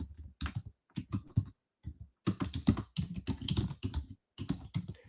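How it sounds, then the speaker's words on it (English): Rapid, irregular keystrokes on a computer keyboard while typing into a WebEx chat, with clustered bursts of clicks broken by short pauses, close and fairly quiet, with no voices. "I'm just constantly typing of what we're seeing."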